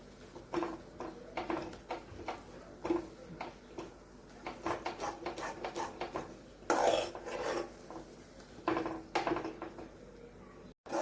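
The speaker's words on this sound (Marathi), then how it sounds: "हलवत राहायचं आहे आपलं पीठ घट्ट होईपर्यंत" Rice flour dough is stirred in a pan as it thickens, with repeated rasping scrapes of a utensil against the metal coming in an uneven rhythm, fairly close and moderately quiet.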